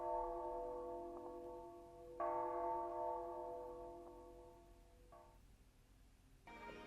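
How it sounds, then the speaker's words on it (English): A bell rings in the Persona Q video game, a soft, sustained, resonant tone with several struck accents that swell and fade, heard faint and alone. "Oh, the bell."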